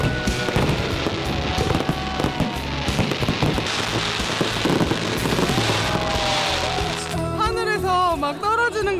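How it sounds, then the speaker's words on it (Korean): Fireworks at a festival in Jinju, South Korea crackle and pop in dense bursts, with crowd voices and music mixed in throughout. "밤하늘을 화려하게 수놓은 불꽃놀이"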